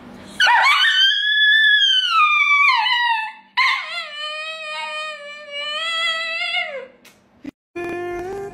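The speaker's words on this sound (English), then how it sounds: "Bark at your dog to see their reaction." A dog lets out long, drawn-out howls: one loud rising and falling wail, then a second, longer howl, followed by a short yip at the close.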